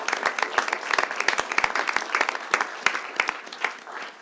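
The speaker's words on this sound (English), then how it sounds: "Let's give another big round of applause to all the recipients this evening." A modest room of people claps for award recipients at a city council meeting, scattered individual claps forming a short, uneven round of applause.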